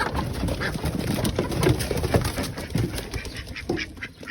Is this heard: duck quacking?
yes